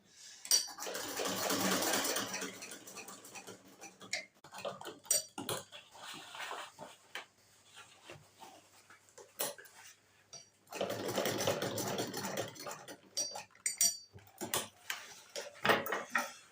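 A sewing machine stitching a canvas bucket bag, running back over the same stitch holes in short rattling bursts separated by pauses and faint handling noises, fairly quiet and close.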